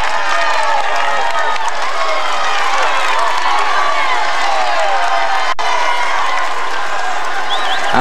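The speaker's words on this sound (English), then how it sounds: "Listen to the crowd." A roadside crowd cheers Tour de France riders on Bastille Day in a French holiday area, a loud, continuous roar of voices and whoops mixed with clapping, sustained throughout with a brief sharp break near the end.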